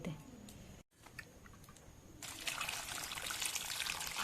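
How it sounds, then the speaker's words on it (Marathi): Water trickles and pours steadily while making sweet lemon pickle, quiet at first, then a louder, fuller pour takes over after a brief pause. "परत पाणी टाकायचं आहे जरा काढून टाकायचं थंड"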